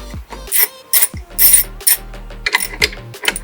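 A ratchet wrench loosens oil cooler bolts on an Audi RS5, giving loud, close bursts of rapid metallic clicking in several short runs with brief pauses between them.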